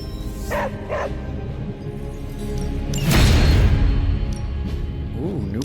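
In the video game Marvel's Midnight Suns, a dog barks and yips a few times at close range. Whimpering and clattering game sounds mix in, along with a brief voice.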